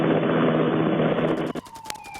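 A Cobra attack helicopter flies in a loud, dense rotor drone that cuts off abruptly partway through, leaving sparse thumps and a thin tone.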